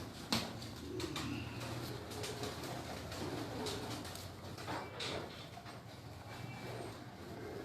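Teddy pigeons coo in soft, low, repeated murmurs at a home loft. Faint clatters and background rumble sit beneath the cooing.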